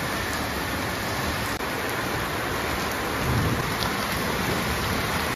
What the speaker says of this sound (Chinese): 这回就开始下起暴雨来